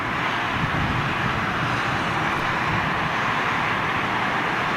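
A jet airliner landing at London Heathrow roars with thrust reversers deployed, a loud, dense, continuous rush of engine noise filling the whole stretch without a break.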